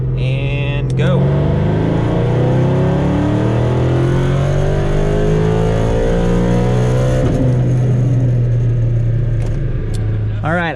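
A car on a dyno in 4th gear makes a loud, sustained wide-open pull producing 756 wheel horsepower, engine note sweeping steadily upward in pitch with a strong rumble before easing off near the end.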